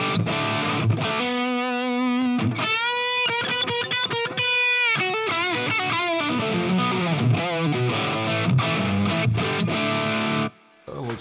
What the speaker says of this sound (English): On the low input, I always use the heavier kind of distortion